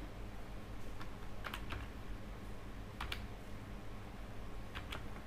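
Quiet keystrokes on a computer keyboard as a name is entered into an Excel spreadsheet, irregular clusters of soft clicks spread across the clip over a steady low hum, with no talking.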